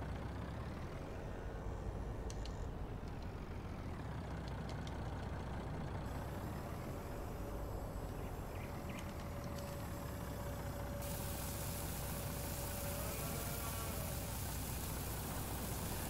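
Heavy truck engine in Farming Simulator 19, a steady loud drone running throughout with a faint high whine and occasional air-brake hiss, no talking.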